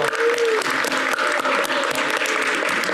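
A church congregation at a Sunday service applauds and cheers steadily and loudly throughout, a dense wash of clapping with a few voices rising above it.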